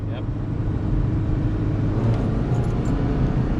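A 2000 Honda Accord LX with a manual gearbox and VTEC drives along with a steady, rumbling engine drone inside the cabin, while people talk over it.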